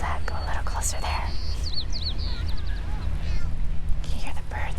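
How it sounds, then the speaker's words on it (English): Small birds chirp in short repeated calls at a moderate distance outdoors in open nature near geese, over steady low wind or background rumble, with no talking. "Can you hear the birds chirping?"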